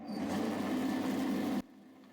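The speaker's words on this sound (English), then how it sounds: "I'll cut it out now on the bandsaw" Bandsaw cutting out a wooden serving fork in a woodshop, a steady close whine with a low hum that runs for about a second and a half and then cuts off sharply.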